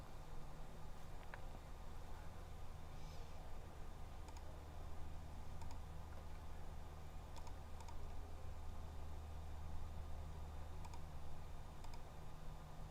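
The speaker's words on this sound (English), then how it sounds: "I know you can hear me clicking back here." Mouse clicks and keyboard taps come from a computer at a live-broadcast desk, sounding as sparse, faint, irregular ticks over a steady background hum with no talking.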